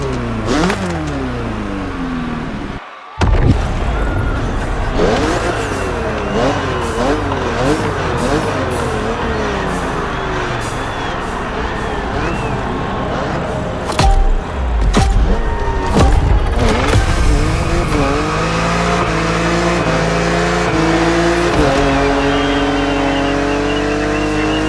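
BMW Z4 roadster driven on the roads of Maui in the racing game The Crew Motorfest, its engine revving up and down through gear changes with rising and falling pitch, loud and close, with brief tire squeals.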